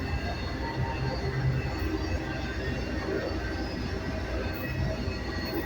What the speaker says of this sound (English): I just hopped a train.